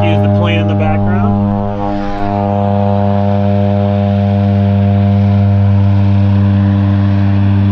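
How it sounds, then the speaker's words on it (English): A propeller airplane drones loudly and steadily overhead during an outdoor walkaround of a 1973 MGB Roadster, drowning out a brief bit of talking at the start. "Excuse the plane in the background."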